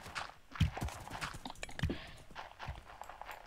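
Horse hooves clip-clopping in a blocky survival video game, several uneven hoof knocks heard fairly close with background game noise, no talk.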